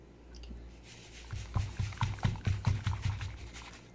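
Broth pours into a pot of stuffed grape leaves, a quiet trickle that turns into a soft, rhythmic gurgling splash heard up close.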